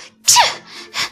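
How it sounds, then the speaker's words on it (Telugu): A woman sneezes from a cold after getting soaked in rain, in a Telugu cartoon: one sharp sneeze followed by short breathy sounds, close and fairly loud. "బాగా తడిసిపోవడంతో జలుబు చేసి తుమ్మడం మొదలు పెట్టింది."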